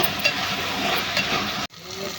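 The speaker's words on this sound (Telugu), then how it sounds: "టమాటాలు వేసుకోవాలి." Tomatoes frying in an oil-filled pan, a steady close sizzle with faint stirring, then a sudden drop into quieter crackling near the end.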